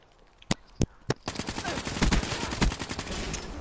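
Video game gunfire from Black Ops 3: three sharp separate shots, then a dense burst of rapid automatic fire with loud cracks, close and aggressive, with no talking over it.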